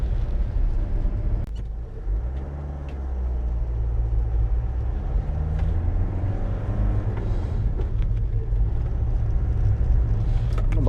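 A camper van drives slowly along a very narrow road beside a Norwegian fjord, with a steady low engine rumble and road noise that rises slightly, close and continuous, no talk.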